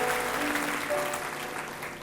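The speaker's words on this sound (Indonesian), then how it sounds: "Beri tepuk tangan untuk Tuhan." A church congregation applauds during a sermon, a dense, steady wash of clapping from many hands that fades slightly toward the end.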